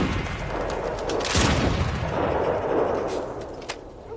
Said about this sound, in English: Fine shot, Mr. Shelby.